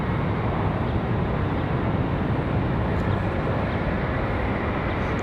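An Air France Boeing 787 Dreamliner departs Raleigh-Durham International on a heavy takeoff bound for Paris, producing a loud, constant broadband jet roar that fills the whole stretch without a break or any voices.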